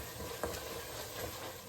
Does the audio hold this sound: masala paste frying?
yes